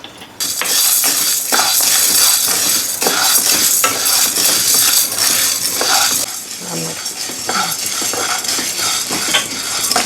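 Dry chana dal (split chickpeas) pours into a hot dry pan for roasting, a loud, dense rattling patter of grains on metal running almost continuously, close up.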